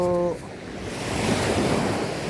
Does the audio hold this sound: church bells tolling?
no